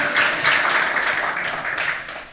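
Congregation applauding during a Spanish-language church worship service, a dense steady wash of many hands clapping together at close range, sustained without pause and slowly easing off toward the end.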